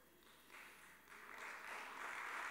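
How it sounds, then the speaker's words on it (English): A church congregation during a sermon on believer's baptism gives a faint, sparse golf clap. The light clapping swells gradually over a couple of seconds and stays quiet and distant throughout. "Thank you for that golf clap."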